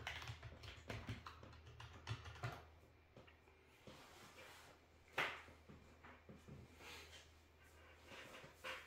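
A computer keyboard typing in a login password, with quiet, irregular key taps and clacks spread through the clip, fairly close but low in level.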